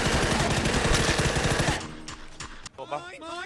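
Rapid automatic gunfire in a video game rattles loudly and continuously for nearly two seconds, then gives way to quieter game sounds with voices talking over them.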